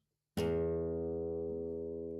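A giant pan struck once with a stick in a guitar training game, a sudden loud metallic clang that rings on as a steady sustained tone, slowly fading, alone and close.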